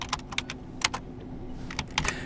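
Computer keyboard typing of a Linux terminal command on Ubuntu: a handful of crisp, close key clicks in short irregular bursts with brief pauses, alone over faint background hum.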